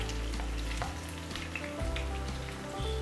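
Ginger, garlic and green chillies fry in hot oil for a vegetable pickle, producing a steady crackling sizzle with intermittent stirring clatter and a low background hum.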